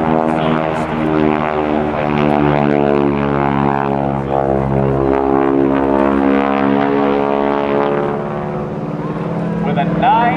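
A propeller aircraft with a big 9-foot Hamilton Standard propeller, tips going supersonic at about 2,500 rpm, makes a loud, steady, droning growl throughout this airshow barrel roll.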